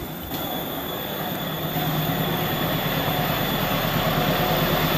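A KTL Pertamina tank train rumbles steadily past close by, a dense rolling roar with a faint high metallic whine, growing slightly louder as it goes.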